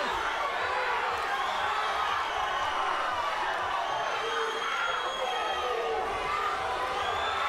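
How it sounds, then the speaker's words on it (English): A packed arena crowd roars and cheers during a women's 65 kg freestyle wrestling semifinal, a continuous wash of voices and whoops that holds steady throughout with a commentator's voice likely mixed in. "That's why this crowd's all fired up."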